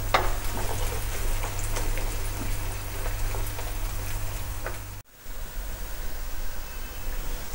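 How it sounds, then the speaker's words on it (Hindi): Onions and cashew nuts fry in hot oil for a seekh kebab handi, a dense, loud, steady sizzle that drops briefly near the end and then carries on, with no talking. "इसके साथ ही हमारे पास जो कैशू नट्स थे वो भी डाल देते हैं ताकि वो भी प्याज के साथ ही फ्राई हो जाए।"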